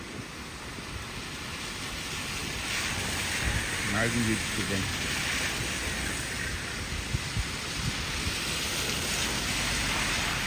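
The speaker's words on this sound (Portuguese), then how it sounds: "a chuva está aí presente, sorridente" Steady rain falls at Balneário Camboriú, Santa Catarina, a dense, even hiss filling the whole stretch while someone speaks briefly over it.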